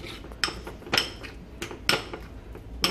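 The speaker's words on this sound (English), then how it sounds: "Mix it up in a bowl." A spoon scrapes and clinks against a bowl while Greek yogurt filling with cheese, garlic powder and cilantro is stirred, sharp taps recurring at an irregular pace, close and moderately loud.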